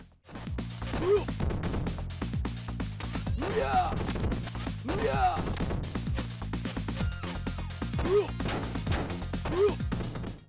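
Streets of Rage fighting action on the Sega CD: thumping hit impacts and short vocal grunts and cries recur over steady background music, several clustered blows in quick succession.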